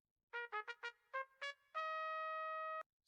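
Processed trumpet line from an Afrobeats beat, low end cut: a quick run of short bright staccato stabs, then a long sustained note that cuts off abruptly, played solo and upfront with a slightly wider, shaped tone.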